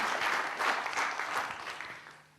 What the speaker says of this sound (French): On l'applaudit, oui, vous avez raison.